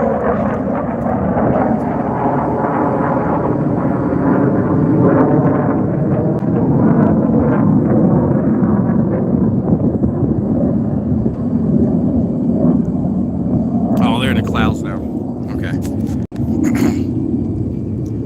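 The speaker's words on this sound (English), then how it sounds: "It's another jet." A jet aircraft passing overhead on a morning run, heard as a loud, steady roar that swells and holds for the whole stretch, with a few sharp clatters near the end.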